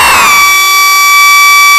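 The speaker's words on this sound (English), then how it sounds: "Like, ooh, that little siren just came." A noise machine synthesizer gives a siren-like tone: a noisy burst that settles into steady, sustained high pitched tones, loud and alone for about two seconds.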